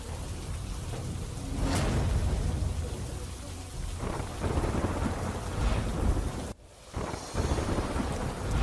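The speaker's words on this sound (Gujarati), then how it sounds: "વલસાડ જિલ્લાના તમામ તાલુકામાં ધોધમાર વરસાદ" Heavy monsoon downpour in Valsad district, Gujarat: a dense, steady roar of rain on surfaces with a rumble of thunder and gusting wind noise, briefly dropping away near the end before the rain returns.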